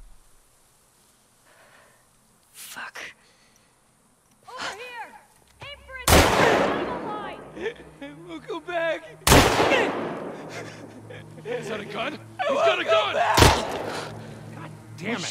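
Loud, sharp gunshots ring out in The Last of Us Part 2, three or four heavy blasts spaced a few seconds apart amid shuffling, movement noise and other game sounds.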